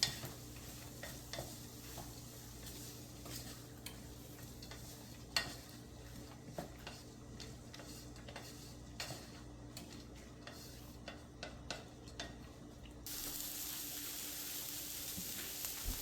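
Asparagus chicken fry with green chillies being stirred in a pan, faint background sizzle with repeated light scraping and ticking stirs, growing into a stronger hiss near the end.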